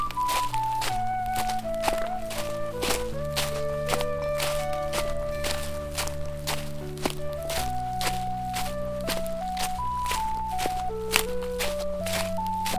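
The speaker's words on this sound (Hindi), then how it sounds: "इतने में आंगन के बाहर पैरों की आवाज ठक ठक सुनाई दी।" Footsteps approach outside a village courtyard in a cartoon story, landing as a steady run of knocking thuds over continuous background music.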